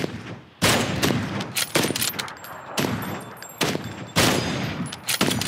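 Gunfire in the battle royale game PUBG: bursts of rapid shots and single cracks come in several loud volleys, fairly close, with brief gaps between them and no voices over them.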